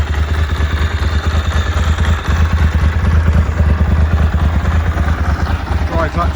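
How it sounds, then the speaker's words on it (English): Engine of a 1997 Ducati 916 motorcycle idling with its dry clutch, a loud, close, steady low throb with fine rapid clatter throughout. "Dry clutch on there."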